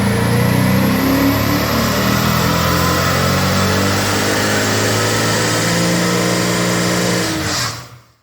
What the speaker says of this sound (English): when the Gransport is in sports mode it does not sound like a straight piped car.